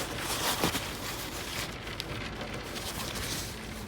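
Steady rain drumming on the roof of an Airstream 22FB Sport trailer, a dense, even patter heard from inside, with a few louder drops and no talk.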